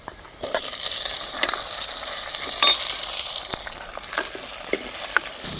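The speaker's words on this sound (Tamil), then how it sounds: "நல்லா வெங்காயம் வதங்கணும்." Steady crackling sizzle of small onions sautéing in hot oil for sambar, close up, with occasional stirring scrapes and pops.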